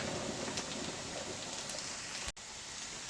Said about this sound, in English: as you can hear the kettle's boiling